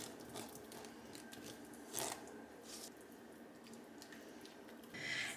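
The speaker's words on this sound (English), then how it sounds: "Now I'm going to add my chopped up broccoli." Chopped broccoli drops into a pan of gnocchi pasta with a few faint, scattered clatters and soft splashes, quiet and close, with no talking.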